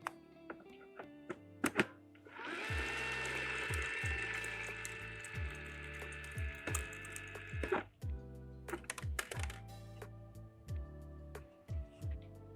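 An Acetech Alignmentor airsoft BB loader winds with a close mechanical ratcheting whir, followed by a run of sharp clicks and clunks from the gearing, with no speech.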